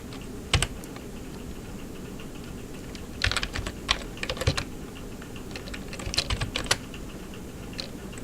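Someone types on a computer keyboard in scattered bursts of close, crisp key clicks, some runs quick and some single taps, with no talking.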